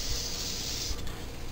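An adhesive spray can hisses in one steady, close burst of about a second and a half, a soft even rush of air.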